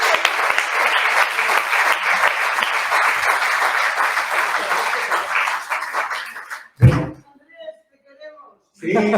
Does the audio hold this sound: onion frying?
no